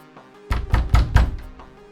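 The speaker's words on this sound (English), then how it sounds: "That's when the knocking starts." A door takes four heavy knocks, close and loud. They come in quick, even succession within about a second, followed by quiet.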